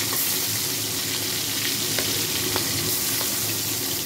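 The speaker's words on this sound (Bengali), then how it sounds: "মাছের মুড়োগুলোকে এগুলো ভেজে দেব।" Small cut fish heads sizzle in hot oil in a pan, a dense, even crackle heard up close with a few faint ticks, no voices.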